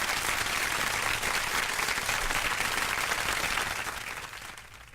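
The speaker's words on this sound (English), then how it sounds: "I was giving the 60 years applause" Sustained applause from a crowd marking a community organization's 60th anniversary in Westchester County, dense and steady clapping that fades out over the final second.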